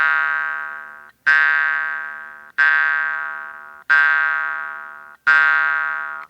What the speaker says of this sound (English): Just try to get a slow, steady sound